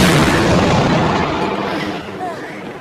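Gunfire from a plane in a World War II film erupts as a loud, dense rumbling barrage that fades slightly toward the end, with a voice briefly heard beneath it.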